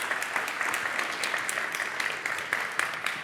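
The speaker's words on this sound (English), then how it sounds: "Let's give them a warm applause." Conference audience at a Python developer talk gives a warm round of applause, a continuous patter of many hands with a few sharper individual claps standing out, no voices heard.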